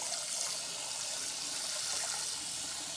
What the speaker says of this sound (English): I just want you to keep running that cold water, overflowing for at least a couple of minutes